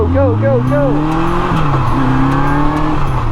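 A 1979 Kawasaki KZ650SR motorcycle being ridden on a road, its engine droning loud and steady with pitch rising and shifting through gear changes, heard up close under wind rush.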